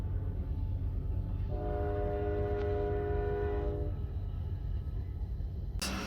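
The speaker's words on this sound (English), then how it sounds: "Train going by." A train rolls past with a steady, continuous rumble throughout, and a long multi-tone horn sounds for about two seconds in the middle before fading, heard from a distance.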